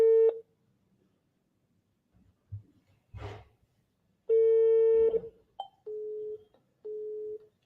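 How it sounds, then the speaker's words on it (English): A telephone ringing tone sounds on a call, steady tone bursts separated by gaps, with a faint rustle and a crackle in between. "So her phone is ringing"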